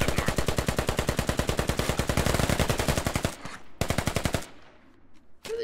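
Automatic rifle fire from the Squad military shooter game, long rapid sustained bursts of loud close shots, a brief pause, another burst, then a short final volley.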